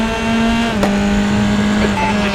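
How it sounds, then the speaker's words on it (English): An F3 race car in the RaceRoom Racing Experience game on the Dubai circuit holds a loud, steady high-pitched engine note close up, with a brief gear-change blip partway through and no talking. "I'm going to let you guys have a listen to the engine."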